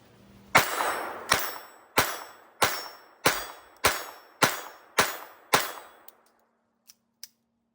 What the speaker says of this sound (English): we're gonna go ahead and try this CCI Mini Mag 40 grain target